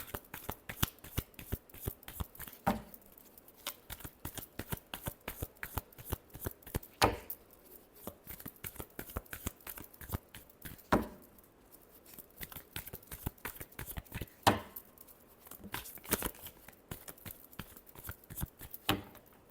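Tarot cards shuffled by hand in steady, rapid riffling bursts with short pauses between runs, close and fairly quiet, with no talking.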